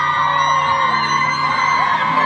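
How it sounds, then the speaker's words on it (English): Fans at a concert on the Ruin Your Party Tour in Orlando scream, whoop and yell in a loud, continuous high wash of voices. "those people up there are like drunk because they're like screaming"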